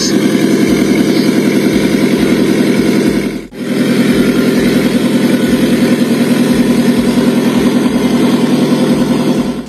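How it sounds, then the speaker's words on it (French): A Porsche engine running loudly at a car gathering, a steady close rumble with a fast pulsing beat, broken by one brief dropout before resuming just as strongly. "Ça sonne super fort cette Porsche."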